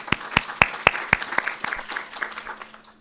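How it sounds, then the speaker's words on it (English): An audience at a university science faculty workshop breaks into applause, opening with a run of sharp, evenly spaced claps that loosen into a scattered round before fading out. "Can we give them another round of applause?"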